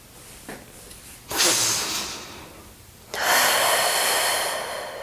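Deep breaths during a hip stretching and mobility routine: a soft inhale, then two long, loud, close breaths with airy rushing, each swelling and slowly fading.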